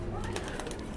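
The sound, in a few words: pigeons cooing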